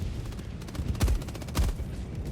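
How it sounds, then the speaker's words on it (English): Machine gun in Helldivers 2 unloading on alien targets, a dense burst of rapid gunfire with two heavier thumping peaks under a constant battle rumble. "it's easier to control the recoil on the machine gun and just unload on them"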